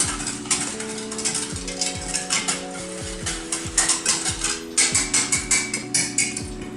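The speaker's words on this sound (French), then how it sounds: "n'oubliez pas de remuer avec le fouet la casserole pour pas que le lait crame" A metal whisk scrapes and squeaks rhythmically against a saucepan of milk in quick, steady strokes, close by, with no voices.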